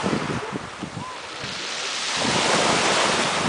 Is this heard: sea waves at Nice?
yes